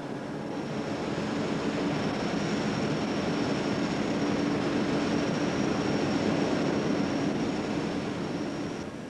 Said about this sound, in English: It'll be ground to a fine powder, mixed with hot air, and blown into a furnace like this one,